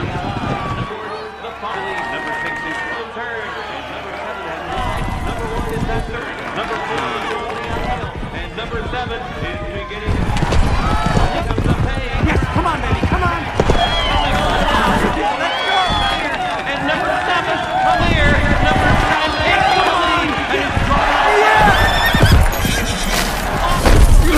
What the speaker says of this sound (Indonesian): Kuda itu melesat kencang meninggalkan para pesaingnya di belakang.